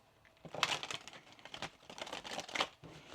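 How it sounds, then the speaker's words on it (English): Soft papery riffling and flicking of cards being shuffled close up, in quick uneven bursts. "Let's get one more shuffle."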